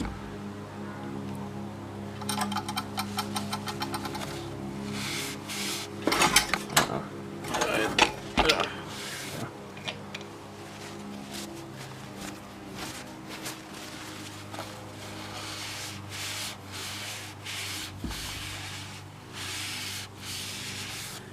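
A cylinder hone scrubs the bore of a Honda GX120 small engine during a piston ring replacement, giving a steady near rasping, rubbing whir throughout with a louder burst of scraping strokes partway through.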